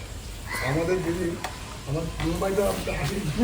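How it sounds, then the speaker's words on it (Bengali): Spiced, marinated chicken pieces hiss and sizzle steadily in hot oil, the frying growing louder as more pieces go in, close up and continuous with a few stirring scrapes. "এখানে মশলা মাখানো চিকেনগুলোকে আমি একে একে তেলের মধ্যে দিয়ে দিচ্ছি"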